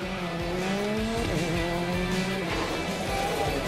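Rally cars compete at the 2019 Rallye du Rouergue in Aveyron, Occitanie, near Moirazès, with a loud engine roaring and shifting pitch through gear changes alongside tire noise, heard close and continuous.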